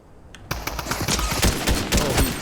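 Rapid video-game gunfire fires at another player, a loud, dense burst of repeated shots in quick succession that starts abruptly and continues throughout.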